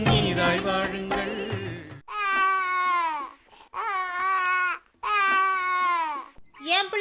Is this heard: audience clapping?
no